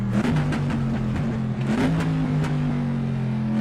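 A race car engine in a racing video game snarls through quick downshifts, its pitch dropping in steps with crackling bursts, loud and close with no voices.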